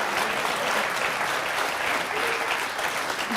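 Dense studio audience applause on a French talk show, steady and loud from start to finish.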